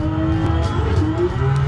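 Drifting car in a racing simulator game on a Moza Racing DD R9 wheel setup, a steady close engine drone with rising and falling tonal tyre squeal, no voices.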